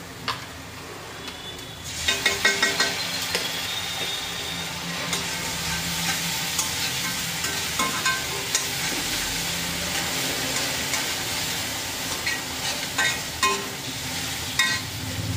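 Ginger garlic paste dropped into hot oil in a pan, a sudden loud hissing sizzle that holds steady for the rest of the clip, with occasional stirring scrapes, close and without speech.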